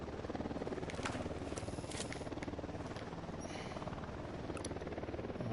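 Constant whirring drone of a helicopter in the video game Ghost Recon Wildlands, steady and loud throughout with a faint fluttering pulse and no talk.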